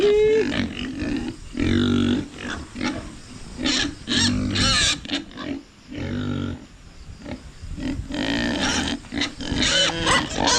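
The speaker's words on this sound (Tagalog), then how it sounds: "yung baboy ni nanay" A farm pig kept at home grunts repeatedly and loudly close up, bursts of coarse grunts and squeals in an irregular rhythm, with brief quieter gaps between them.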